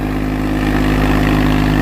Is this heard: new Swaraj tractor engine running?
yes